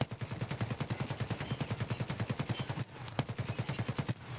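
AK-104 fires in full auto in Escape from Tarkov, a long rapid stream of loud, evenly spaced shots with a short break before a second burst.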